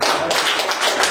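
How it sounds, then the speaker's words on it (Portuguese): A church congregation claps in praise of Jesus at a Portuguese-language service, dense, loud, continuous applause filling the whole moment with no voices over it. "E agora, mais uma salva de palmas para Jesus."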